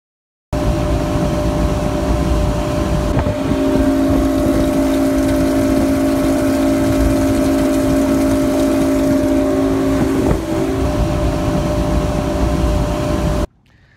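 A bass boat fitted with a Survivor high-speed water pickup system runs at around 24 miles an hour, its outboard engine droning loud and constant with a steady hum and rushing water, ending abruptly.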